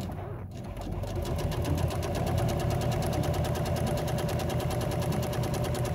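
Sewing machine stitching pleats into auto upholstery seat inserts, running in a steady fast mechanical chatter that starts after a brief pause and continues evenly at close range.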